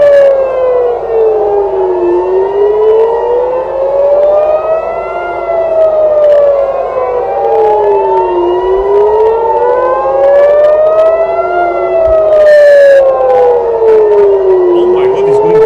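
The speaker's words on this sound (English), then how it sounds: "this is like tornado sirens, right?" A wailing civil defense siren rises and falls in long, steady cycles, loud and continuous, with overlapping tones sweeping up and down throughout.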